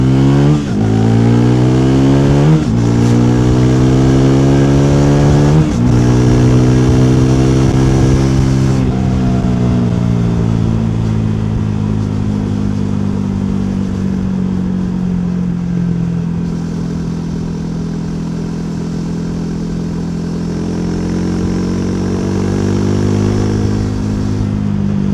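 A Triumph Thruxton 400 motorcycle accelerates in second gear through a corner, its engine note climbing steeply across several upshifts, then settling into a steady, slowly rising drone with wind roar close by.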